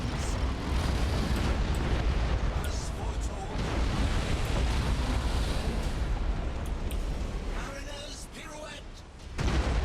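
Space-battle weapons fire and explosions rumble from the game Battlefleet Gothic Armada 2 in a dense, continuous roar with scattered bursts, loud throughout before dipping briefly near the end, while someone talks over it.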